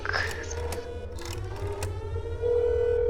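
A siren wails with sustained, slightly shifting tones layered over other busy electronic sounds, holding a steady pitch toward the end.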